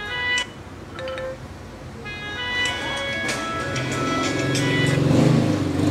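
Music played back through the built-in loudspeaker of an Oppo A9 2020 phone under repair, a thin, moderately quiet sound with tonal notes and a rising, noisy swell toward the end.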